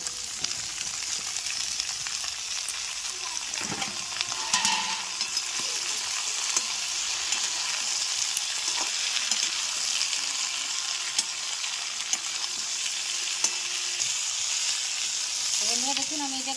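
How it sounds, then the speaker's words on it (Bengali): Vegetables fry with bori, green chilli and onion in a hot pan, a continuous loud sizzle with occasional stirring scrapes throughout. "দেখুন আমি সবগুলা সবজি এটার সঙ্গে দিয়ে দিচ্ছি, সব একসঙ্গে আমি ভেজে নেব"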